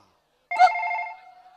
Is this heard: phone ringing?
yes